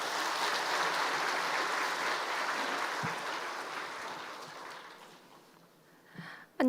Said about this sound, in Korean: 우리가 뜨겁게 격려하는 마음으로 박수를 좀 해주시기